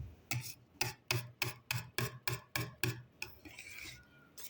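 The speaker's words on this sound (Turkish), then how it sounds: "2 kaşık tereyağımızı ilave ettikten sonra tekrar çırpıyoruz bir güzel." Whisk beating butter into cake batter in a bowl, with about ten rhythmic, evenly spaced scraping strokes, close and clear, then a softer stir.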